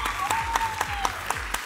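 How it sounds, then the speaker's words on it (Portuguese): Audience applause at a televised singing talent show gala, a steady wash of clapping with a few sharper claps standing out and a sustained tone running beneath it. "Os aplausos"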